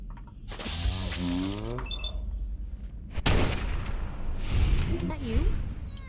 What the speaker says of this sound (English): That was me shooting him.